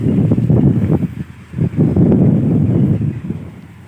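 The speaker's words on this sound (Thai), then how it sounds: "วันนี้ลมแรงมากครับ" Strong wind gusts outdoors beside rice fields at a site where a truck dumps soil, roaring and buffeting loudly against the microphone in uneven surges, with no one talking.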